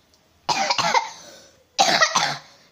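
Two close, loud bursts of rough coughing, each made of a pair of quick coughs, with no talking.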